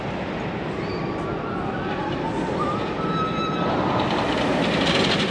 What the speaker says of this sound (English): we just did first public train of the day on Goliath